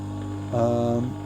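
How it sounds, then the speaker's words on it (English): A small electric motor runs with a steady, low electrical hum, and a brief tonal swell rises over it partway through. "This is the second time I've had this motor running."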